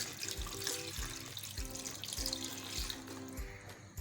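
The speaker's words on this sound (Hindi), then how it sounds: "इसके अंदर हम डालेंगे पानी, और पानी इतना ही शामिल करना है कि अच्छे से डूब जाए" Water pours into a pot holding about a kilo of goat bones for a bone curry, a steady splashing gush broken by regular low thumps with a musical backing underneath.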